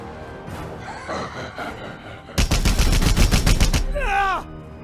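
Rapid automatic gunfire in Warhammer 40,000: Chaos Gate rattles out in a loud, dense burst of shots, framed by brief voices before and a sneering vocal sound after.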